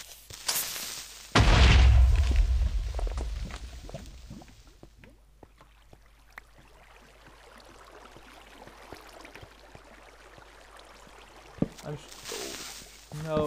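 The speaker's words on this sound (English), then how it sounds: "I was just in time to escape that explosion." Video game explosion: a loud booming burst with a deep rumbling low end that erupts early and decays over a few seconds, followed by quieter game sounds and a brief sharp hit near the end.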